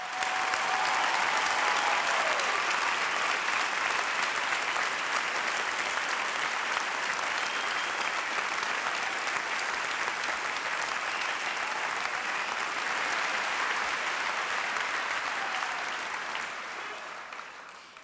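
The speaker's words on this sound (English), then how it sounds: "I would ask that the audience please join me in a rousing applause to recognize our" A large graduation ceremony audience applauds employees in a long, even wash of clapping that stays loud and steady before tapering off at the end.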